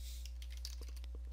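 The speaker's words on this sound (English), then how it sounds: "now you're going to type in copy" Typing on a laptop computer keyboard while resetting a Windows 10 password, a quick run of light key clicks close by over a steady low hum, with no speech.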